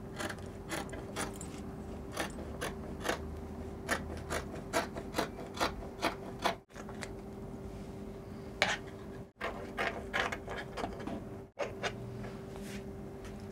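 Scissors cutting through main fabric laid under a lining for a princess-dart bustier dress, a close, steady run of crisp snipping clicks with a few brief pauses.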